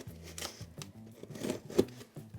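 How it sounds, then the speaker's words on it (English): Quiet snipping and crinkling as scissors cut along the seam of packaging on a Lamb LT 150 box, a few short cuts in quick succession, close by. "take some scissors and find the seam"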